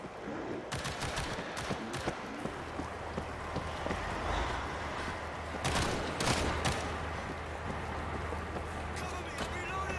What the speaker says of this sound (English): Auto turret set.